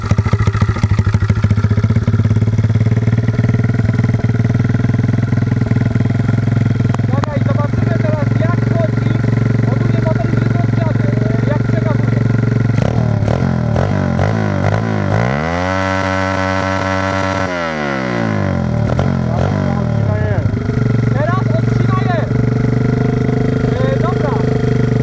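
A Loncin 125 motorcycle engine on a tuning test idles with a steady, buzzy rumble, then revs up and back down in a rising and falling whine near the middle before settling into idle again. It is close and loud.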